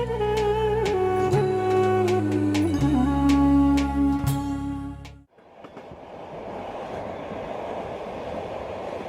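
A train crossing the steppes of Central Asia, heard first as loud tonal rumbling with rhythmic clicks and sharp metallic strikes, then cutting to a steadier broadband roll of wheels on rails.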